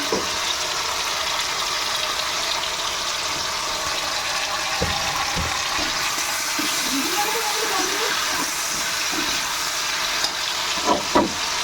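Chopped tomatoes fry in a pan for an egg and potato curry, making a steady sizzling hiss with a few utensil scrapes and clinks, growing busier toward the end.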